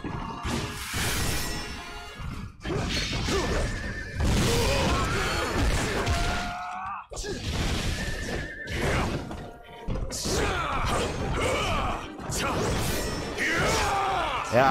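A horse neighs in the action game Wo Long: Fallen Dynasty, with loud whinnies and bellows mixed among crashing combat impacts and shouts during a chaotic battle.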